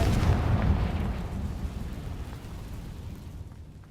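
A fiery Confringo spell explosion from the Hogwarts Legacy video game booms loudly at the start, then its rumbling roar slowly fades away.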